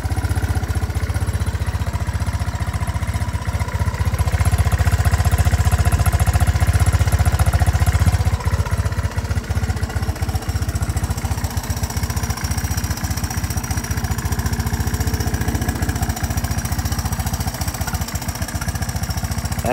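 A 1984 Honda 200ES Big Red ATV engine idles steadily and loudly up close, a continuous low rumble with a slight stumble partway through, no talking.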